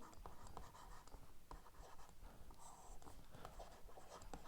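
Handwriting notes with a pen, a faint continuous scratchy stroking with irregular short taps and pauses, heard alone and close.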